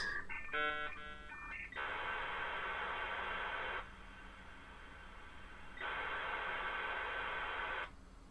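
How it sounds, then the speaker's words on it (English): A dial-up modem handshake from a WebTV emulator: a few chirping tones and warbles, then long bursts of harsh hissing static that pause and resume, steady and fairly loud. "Getting cool modem sounds."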